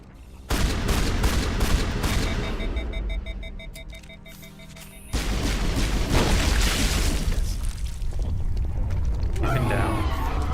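Gunfire rattles in the game Mass Effect Legendary Edition, rapid loud bursts over mechanical clanks and beeps, then a denser, heavier barrage with crackling impacts layered over a game soundtrack.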